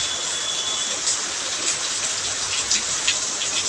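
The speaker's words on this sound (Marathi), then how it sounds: "आलेला आहे पाऊस आणि पाहू शकता तुम्ही सिटीमध्ये" Steady city rain pours down in a dense, even hiss, with scattered louder drops and splashes on hard surfaces, and no voices.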